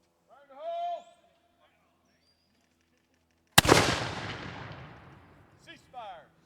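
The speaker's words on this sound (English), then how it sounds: "The next thing he has to do is introduce fire to the vent, and that will fire the artillery." A historical artillery cannon fires at a reenactment in Halifax: one sudden, very loud blast that rolls away in a long fading rumble, with brief shouted voices just before and after.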